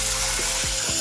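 Water poured into a pan of fried onion sizzles loudly and steadily, with a few gurgling splashes as the liquid hits the hot oil.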